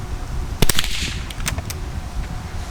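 A 1920s Savage Model 25 .22 LR rifle fires a string of sharp, close cracks. Several shots come in a quick cluster, then a few more follow at wider spacing over a steady outdoor background hiss.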